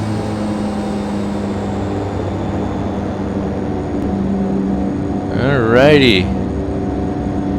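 A flight-simulator aircraft's engines hum in a steady, droning tone, swelling slightly as throttle is added to taxi uphill at St. Barts, with a short spoken word over the engine near the end.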